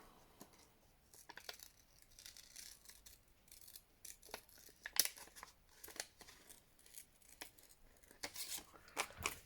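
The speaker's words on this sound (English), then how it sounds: "If I fussy cut this squirrel," Scissors snip through a fabric napkin while fussy cutting around a squirrel motif, giving quiet, irregular crisp cuts and rustles up close, with sharper snips near the middle and end.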